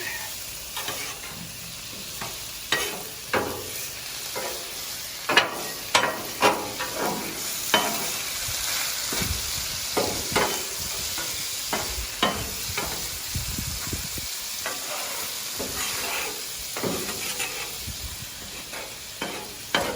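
Chicken and pork fried rice sizzles steadily on a hot griddle, with repeated scraping and stirring strokes of a spatula over a continuous frying hiss, close and fairly loud, with no talking.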